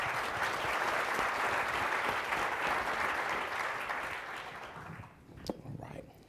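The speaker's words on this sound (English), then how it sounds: "So join me in giving all of our panelists a round of applause." Panel audience at a workplace event breaks into loud, dense applause that holds steady for several seconds, then thins out and fades with a few last scattered claps.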